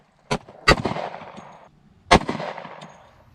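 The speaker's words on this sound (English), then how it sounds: "let's go ahead and finish this mag out" Three pistol shots fire outdoors in cold weather with a brass catcher fitted, one sharp crack, then another, and a third after a pause, each loud and close with a short ringing echo and a faint clink of casings.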